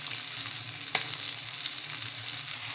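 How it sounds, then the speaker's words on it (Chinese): A fish head fries in hot oil in a wok, giving a steady, close sizzle with one brief clink partway through. No one speaks. "热锅下油，鱼头下锅煎"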